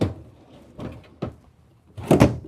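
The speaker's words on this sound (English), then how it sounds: "But as far as the drawers, we have full extension." A drawer in a Dynamax Force 34KDHD Super C motorhome slides out on full-extension slides, giving a few close rumbling glides and knocks that end in a louder rattling thud, with no talk.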